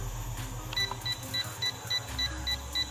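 Short electronic buzzer beeps from a drone remote controller signalling flip mode, repeating at an even quick rhythm, quiet and close, over a low background hum.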